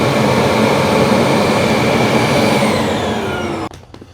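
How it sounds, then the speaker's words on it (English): A Eureka E10s robot vacuum's self-emptying dock sucks dust out of the robot with a loud, steady rushing roar that cuts off sharply near the end, leaving faint clicks. "it's sucking everything out of the vacuum into there"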